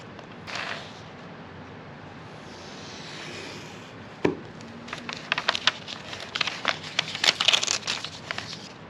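A Kush Knife cannabis multi-tool makes a light cut, heard as faint crinkling that builds into a burst of crackly snaps and ticks near the end.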